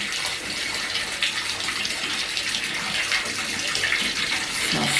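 Hot water pouring steadily into a bathtub with bubble bath for a soak, a loud continuous close splashing rush with no pauses.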